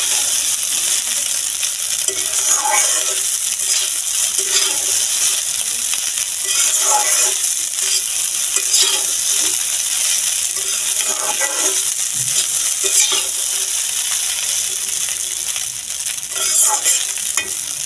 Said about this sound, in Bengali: তো ভালো করে এভাবে নাড়িয়ে নাড়িয়ে কিন্তু কিছু সময় নিয়ে ভেজে নিতে হবে।